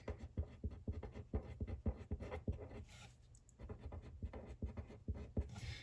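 A pen moves across paper in a Classic Happy Planner, quick rhythmic scratchy strokes close up and faint, with a short pause midway before the writing resumes.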